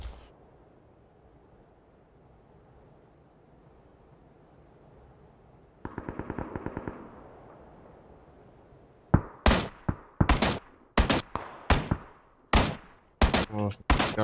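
In a video game, after a quiet stretch and a brief rapid mechanical rattle, a series of loud, sharp gunshots fire in irregular bursts, up close.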